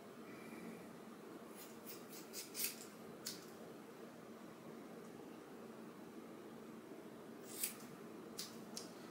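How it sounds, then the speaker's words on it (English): Hair being cut with scissors rather than clippers during a haircut, heard as a few faint, crisp snips scattered over a low steady room hum. "she cuts your hair with scissors and not a clipper"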